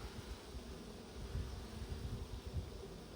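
Honeybees buzz in a steady, dense drone while a hive is opened for a third-week inspection with packed brood and emerging workers; the hum stays fairly faint and constant throughout, with no voices.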